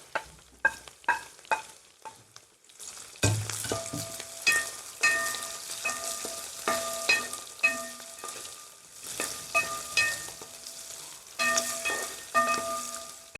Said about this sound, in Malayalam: വെളുത്തുള്ളി ഇട്ട് കൊടുക്കാം ഇഞ്ചി ഇട്ട് കൊടുക്കാം ഒപ്പം തന്നെ കറിവേപ്പില ഇട്ട് കൊടുക്കാവേ എല്ലാം കൂടി ഒന്ന് വഴറ്റിയെടുക്കാം